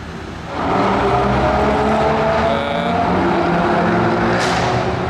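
A white Audi RS3 revs up and accelerates hard, its loud engine roar rising and holding, with a brief high screech near the end.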